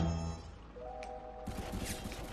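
Gunfire in the Roblox game War Tycoon, with a tank battle around it: a steady rumbling roar that turns into a denser burst of shots partway through, loud and close, with no talking.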